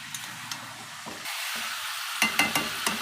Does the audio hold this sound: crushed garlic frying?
yes